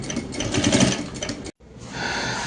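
A sewing machine stitches fabric for a kitchen apron, running in a close, loud steady whir, stopping abruptly for a moment and then starting again at a steady pace.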